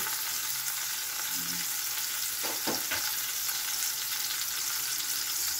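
Two onions frying in a pan for chicken adobo with egg, a steady broadband sizzle running throughout with a few brief stirring scrapes partway through and no talking.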